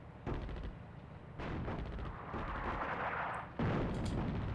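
Artillery fire in the wartime strategy game Attack at Dawn: North Africa: repeated heavy broadband booms and rumbling blasts land in loud bursts, overlapping one another against a dense battle din, with no talk.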